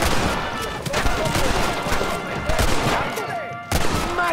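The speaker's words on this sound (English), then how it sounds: "I'm just trying to make sure I shoot everybody at least once before I get sniped in the throat" Video game gunfire sounds as a dense, continuous fusillade of rapid shots, loud and close throughout, with no breaks in the shooting.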